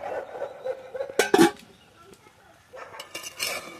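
A metal pot lid is lifted off a cooking pot of village-style chorchori, a couple of loud clanks and scrapes in the middle, surrounded by quieter kitchen clatter.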